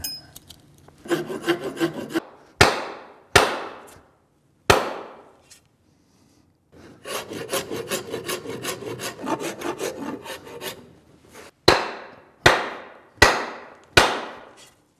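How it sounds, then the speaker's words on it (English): A hand file rasps the edge of the slot in an axe head in rhythmic back-and-forth strokes. Two long bursts of filing alternate with sharp single knocks and brief pauses in a quiet workshop. "By filing that edge out"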